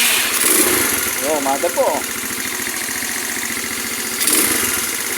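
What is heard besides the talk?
motorcycle engine starting and idling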